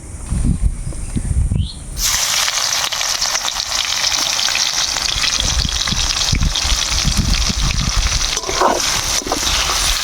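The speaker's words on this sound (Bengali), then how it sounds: "এরপরে দিব পেঁয়াজ কুচি" Chopped onions hit hot mustard oil in a wok with bay leaf and dried chilli, bursting into a loud, steady sizzle after a brief quieter start, with occasional stirring scrapes.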